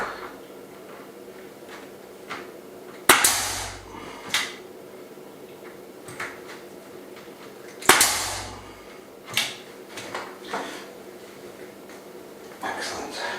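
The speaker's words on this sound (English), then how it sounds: "fire some nails through it" Nail gun driving nails into wood during a rustic off-grid office build, two sharp loud pneumatic shots several seconds apart, with lighter knocks and handling noises between them.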